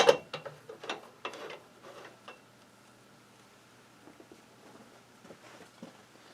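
A finished box elder bowl, coated in sanding sealer and shellac, is worked free of a wood lathe's chuck jaws: a few close knocks and clicks at the start, then soft scattered handling taps near the end.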